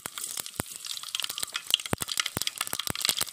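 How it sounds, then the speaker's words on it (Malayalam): Mustard seeds dropped into hot oil in a pan for a rustic jackfruit pickle crackle and pop in sharp, irregular bursts over a steady sizzle, close and clear with no talking. "ഇതിലേക്ക് കടുക് ഇട്ട് കൊടുക്കാം."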